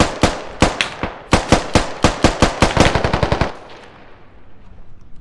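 Rapid gunfire rings out in the military shooter game Squad, with sharp, loud, close shots in quick irregular bursts that speed into a fast volley before stopping and fading into a quiet tail.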